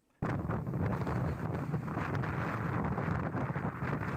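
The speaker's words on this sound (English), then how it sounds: "it's really windy." Wind buffets a microphone outdoors, a constant loud low rumbling roar that starts abruptly and holds steady throughout, with no voices over it.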